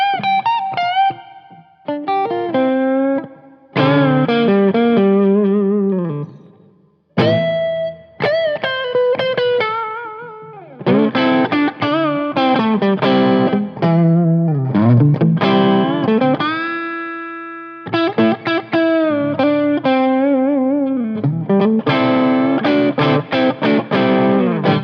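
Electric guitar played through a Blackstar HT Studio 20 valve amp on the neck pickup with reverb, crunchy breakup, loud and close, sustained chords and single-note runs ringing out in phrases with brief gaps between them.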